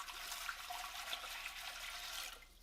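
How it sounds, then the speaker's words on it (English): Water pours steadily into a canning pot, a continuous hissing splash at moderate level that fades out near the end. "You're going to want to add water"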